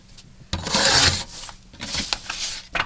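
A paper trimmer slices apart coloring pages with one long rasping slide, followed by a few shorter scraping strokes and light clicks, close by and without talk.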